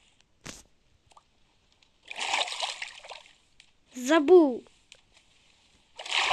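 Water splashes in the Minecraft video game in short bursts, separated by quiet gaps and a sharp tick, with a brief spoken word from a player between them.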